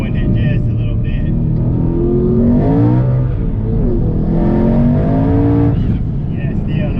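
A twin-turbo 2017 Mustang GT called the Hellhorse roars loudly on a dyno, its engine note rising and falling as the tire spins without gripping, with people talking over it up close.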